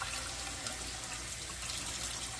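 Rice being rinsed in water in a kitchen, heard as a steady, close, continuous wash of running and sloshing water that stays even and fairly loud throughout, with no talking.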